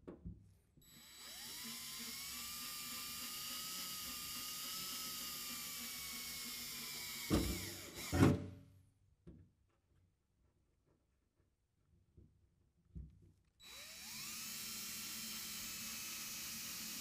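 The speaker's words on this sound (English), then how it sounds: "So we're going to go ahead and drill pilot holes." A drill bores pilot holes in the sheet-metal bed of a 2022 Ram 2500 Power Wagon, starting with an oiled eighth-inch bit; a steady whirring drill runs for several seconds, breaks into a few loud bursts, pauses in near silence, then whirs again.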